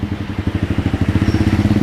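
A custom motorcycle engine during a test ride, putting out a close, loud, rapid and regular low thumping pulse that speeds up slightly toward the end.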